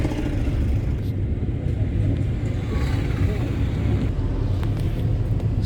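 A car driven on a practice round, its engine and road rumble a steady, continuous drone with no breaks, close and moderately loud, without speech.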